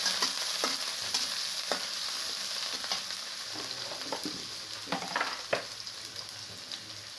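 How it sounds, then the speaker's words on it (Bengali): Chopped potato, onion, green chili and garlic sizzle in a pan while being stirred, with occasional utensil scrapes and clicks over a soft steady fry. "দিয়ে এবারে একটু নাড়াচাড়া করে নেব।"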